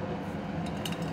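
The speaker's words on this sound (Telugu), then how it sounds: "ఆవాలు వేస్తున్నాం" Mustard seeds dropped into hot oil in the same bowl used for frying, for a gongura walnut chutney tempering, giving soft crackles and light metallic clinks against a steady frying hiss, close and fairly quiet.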